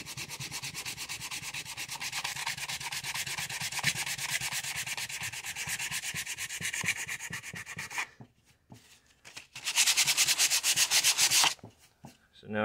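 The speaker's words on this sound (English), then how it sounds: "This one is going to be, I think, a little bit easier just to have" Plywood being sanded by hand to remove glue, a steady rapid back-and-forth scrubbing rasp that runs close and loud, pauses briefly, then resumes in a final burst of strokes.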